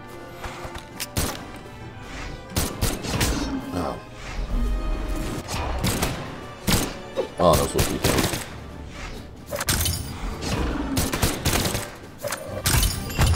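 Gunfire in the fighting game Brawlhalla: sharp bursts of shots and impact hits crackle in irregular clusters over a busy game backdrop, with a player talking throughout.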